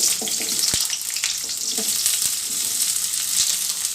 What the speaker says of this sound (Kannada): ಈಗ ನೆಕ್ಸ್ಟು ಇದನ್ನು ಫ್ರೈ ಮಾಡ್ಕೊಳ್ಳೋಣ ಈಗ ಎಣ್ಣೆ ಕಾದಿದೆ ಈರುಳ್ಳಿ